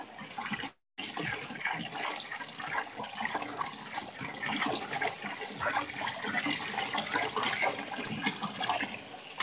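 Fresh ramen noodles being rinsed in water to wash off surface starch, a steady continuous splashing and gushing of water close by, with one very brief break near the start.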